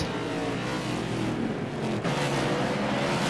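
Race cars roaring around Martinsville Motor Speedway during a crash and spin-out: a dense, continuous wall of engine noise with a brief dip and surge midway, loud and close, with no clear talk on top.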